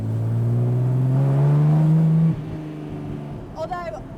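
Jaguar XK 3.4-litre six-cylinder engine from an XK 150 with triple downdraft Webers, fitted to a C-Type evocation, drones loud and close and rises in pitch under acceleration, then drops sharply as the throttle lifts and eases back.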